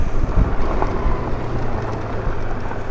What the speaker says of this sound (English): So we're doing 70 on a gravel road.